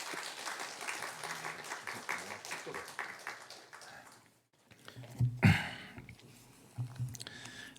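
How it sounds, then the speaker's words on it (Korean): A church congregation at a New Year dawn revival service claps in a warm, sustained burst of applause, with talking around and over it and a brief lull partway through. "하나님께 영광의 박수, 또 환영의 박수로 한번 하도록 하겠습니다."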